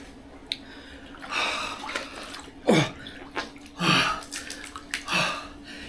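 Water pours into a bathtub being filled for an ice bath, heard as a run of separate splashy gushes and gurgles at close range over a low steady hum, with no talking.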